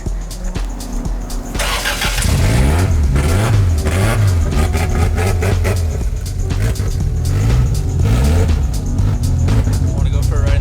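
Boosted Toyota Cressida MX73 with a 5M engine pulling away and driving off, a loud engine rising and falling through gears with rhythmic harmonic sweeps, close by, with a voice briefly speaking near the start.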